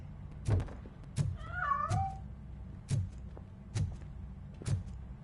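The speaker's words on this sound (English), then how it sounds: "That cat must be hiding inside." Several distinct meows from a cat hiding inside a piano in the video game RoboCop: Rogue City, a cluster of rising and falling cries near the middle between regular soft thumps, close and clear with no talk.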